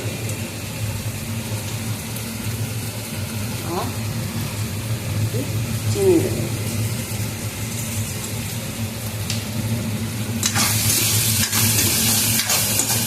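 Spice masala with tomato paste frying in a pan gives a low, steady sizzle with scraping stir noises. A sharper burst of hissing comes near the end, and a voice talks faintly over it.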